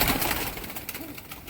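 A Punjabi pigeon with a speckled pattern coos softly at close range, a brief low burbling call with no talk over it.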